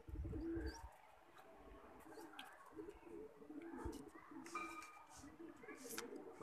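Pigeons being released for a training flight, with soft cooing and flapping bursts over a low rumbling background, along with some nearby chirps.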